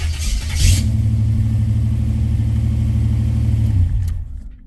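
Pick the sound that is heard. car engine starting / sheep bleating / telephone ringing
car engine starting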